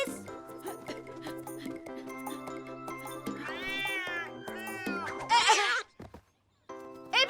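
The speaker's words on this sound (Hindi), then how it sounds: "ए बिल्ली, उस चिड़िया का पीछा छोड़ दे।" Cartoon cat meowing in a Hindi-dubbed children's cartoon, a couple of drawn-out, wavering yowls over busy background music, followed by a short gap and a clattering sound.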